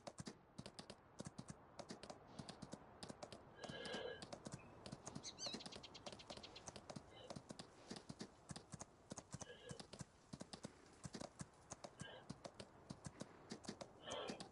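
Horse hooves clip-clopping in a video game, a steady rapid patter of light hoofbeats continuing throughout at low level, with someone talking over parts of it.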